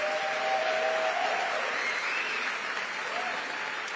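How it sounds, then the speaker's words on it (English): Sustained audience applause at a San Francisco mayoral debate, a steady, full wash of many hands clapping that holds evenly throughout, with a faint tone lingering beneath. "deserved applause"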